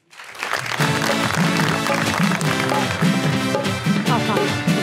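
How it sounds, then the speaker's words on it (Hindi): Applause from a television talk show's studio audience swells in quickly and stays loud and continuous, blended with a musical accompaniment. "आपकी भरपूर तालियों में बुलाना चाहूँगा"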